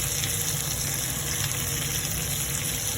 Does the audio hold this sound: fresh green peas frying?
yes